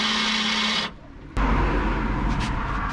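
A drill boring a hole sized for an 8mm tap: a steady whirring motor, a brief pause, then a louder grinding run with a low rumble as the bit cuts the metal.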